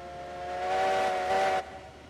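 A steam locomotive whistle from a Heisler geared engine in the railroad video game Railroads Online sounds one steady, loud, breathy blast for about a second and a half, then cuts off sharply, leaving quiet background.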